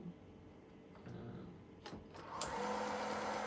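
A Breville Oracle Touch BES990BTR grinder set to grind size 15 starts up after a few clicks and handling noises, then settles into a steady whirring grind. Nobody speaks.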